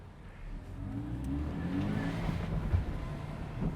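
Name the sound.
Toyota GT86 car engine accelerating on a drive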